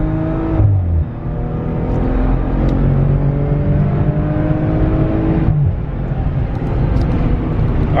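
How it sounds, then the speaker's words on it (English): A Maserati Ghibli engine revs hard under acceleration, a loud rising roar from the cabin that climbs steadily, breaks briefly around a gear change, then pulls again with a strong, continuous growl. "Like this engine sounds really good."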